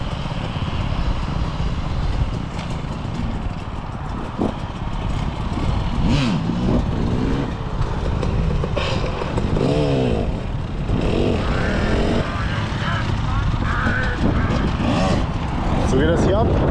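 A group of motorcycles rolls in to a bike meet, engines revving and rising in pitch one after another, loud and close over a busy crowd of voices and shouting.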